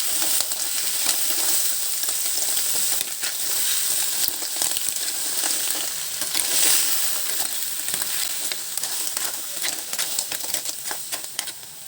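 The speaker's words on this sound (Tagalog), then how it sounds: "At mekes-mekes natin para lalo pang bumango." Food for ginataang sapay being stirred and fried in a pan gives a steady, close, crackling sizzle with scraping stir strokes throughout, continuous and fairly loud.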